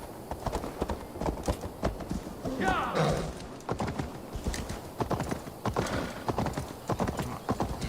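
Rhythmic clip-clop of a horse's hooves in a video game, close and steady, with a neigh partway through and some talking over it.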